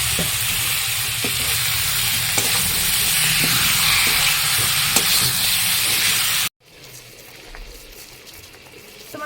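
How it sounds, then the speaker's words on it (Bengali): Marinated chicken hits a hot pan with fried onions, sending up a loud, steady hiss and crackle of sizzling with a few sharp pops, then cutting abruptly to a much quieter, fainter simmer. "এবার ভেতরে আমি মাংসটাকে এখন মেরিনেট করা মাংসটা ছেড়ে দিচ্ছি"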